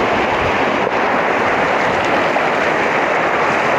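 Mountain stream water rushing in a highland village, a loud continuous broadband flow close by, partly roughened by wind on the microphone.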